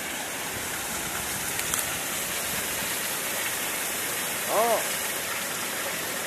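Rushing water roars steadily and loudly at a small hydroelectric plant in Cao Bằng, Vietnam, a broad hiss like a torrent nearby; a brief spoken word cuts in near the end.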